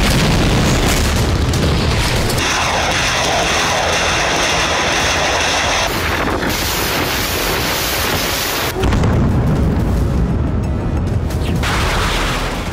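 Missile strikes on districts of Kyiv bring heavy, rumbling blasts and sustained roaring booms that shift in texture. The sound is very loud and continuous, with no voices.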